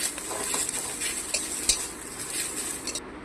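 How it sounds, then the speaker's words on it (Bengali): Chillies frying in a pan for mashed potatoes, a close, even sizzle with light stirring and scraping of a spoon, continuous for a few seconds before cutting off abruptly. "এখন আলু মাখার জন্য লঙ্কাগুলো ভেজে নেব"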